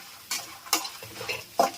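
Fenugreek seeds fried dry in a pan with spices such as red chilies, coriander seeds and chana dal: a few short, bright bursts of stirring scrape and sizzle spaced through a quiet, close-up background, with no talking.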